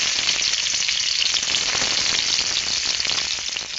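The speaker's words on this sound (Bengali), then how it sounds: "পেঁয়াজটা হালকা করে ভেজে নিয়েছি।" Onion frying in hot oil in a pan for a sea fish curry, a dense continuous sizzle that stays loud and close throughout.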